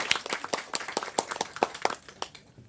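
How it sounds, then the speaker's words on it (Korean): An audience at an education lecture claps to welcome the speaker, a brief round of many overlapping hand claps at moderate volume that thins out and fades after about two seconds. "큰 박수로 모시겠습니다."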